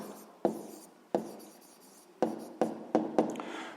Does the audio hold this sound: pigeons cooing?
no